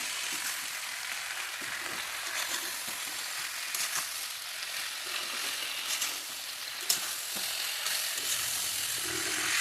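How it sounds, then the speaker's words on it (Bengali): Taro stolons frying with dried fish and spices in a pan, a continuous bright sizzle with soft scraping stirs and an occasional sharp clink, no voices. "এগুলোকে, কচুলতিগুলোকে ভালো করে নাড়িয়ে আমি ঢাকা দিয়ে দেবো।"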